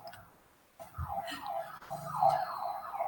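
Ambulance siren outside near a hospital, a faint wailing tone rising and falling from a distance, swelling louder in the second half of the short stretch.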